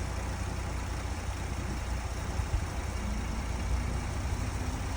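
A car engine idles steadily after a jump start at a City of Norfolk auction, a low, even rumble with no talking.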